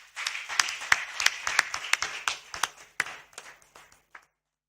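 Scattered audience clapping at a formal signing ceremony, individual hand claps rising into a brief round of applause that thins out and stops after about four seconds.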